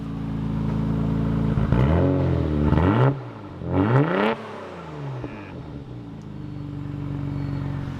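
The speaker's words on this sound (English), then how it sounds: "See, when you get up and into the rev range, you can start to hear the 1J really come out" A Toyota 1JZ engine in a Hilux idles loudly up close, then revs sharply twice, each rev climbing and falling back before it settles to a steady idle.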